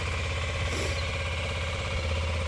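A 2016 Kawasaki Ninja 250 SL motorcycle with stock exhaust idles steadily with a low, even rumble and fine mechanical vibration, running continuously without revving.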